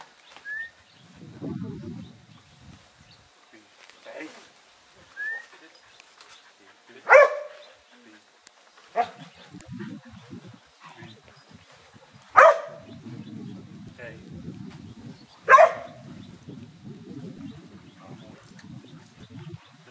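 A dog in an outdoor round yard barks in sharp single reports spread through the scene, with quieter whines and low rumbly yips between them, fairly close, and brief speech now and then.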